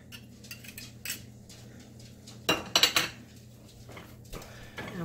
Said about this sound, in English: We're gonna run through the garlic press real quick. And we'll mix all that up.